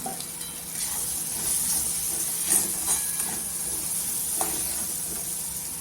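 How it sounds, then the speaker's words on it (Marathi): Brinjal and potato curry with crushed peanuts being sautéed in oil gives a continuous moderate sizzle and steamy hiss, with a few faint stirring scrapes and clicks on top and no speech. "आणि इथं आपली भाजी पूर्णपणे तेलातमध्ये शिजलेलीच आहे आता आपण परतून घ्यायची"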